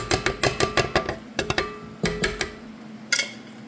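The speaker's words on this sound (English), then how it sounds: "And then we're going to put in the dry ingredients." Dry ingredients for cinnamon roll muffins go into a mixing bowl as a quick series of close, sharp taps and soft pattering hits, irregular and fairly loud, with a short pause and one last clink near the end.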